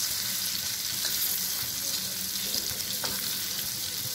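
Pomfret pieces sizzle steadily in hot oil in a pan, a constant dense crackling hiss with a few small pops, no voices.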